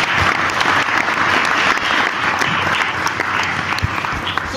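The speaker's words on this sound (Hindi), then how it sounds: "ताली बजा सकते प्रभु के लिए।" An audience claps for the Lord during a sermon, loud continuous applause with a crowd texture that holds steady throughout.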